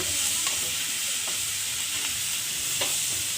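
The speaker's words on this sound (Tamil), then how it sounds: "இதெல்லாம் சேர்த்து ஃப்ரை பண்ணுங்க" Crushed garlic, ginger and curry leaves fry in oil for chilli idli, giving a continuous close sizzle with a few soft spatula scrapes and taps spaced through it, no voices.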